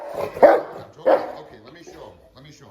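Two sharp dog barks ring out close by in a garage, spaced about half a second apart, with someone talking over and after them.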